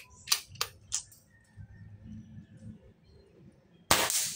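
A compact multishot air gun is handled with a few sharp mechanical clicks of loading and cocking, then after a pause one loud close snap of a shot that decays briefly at the end.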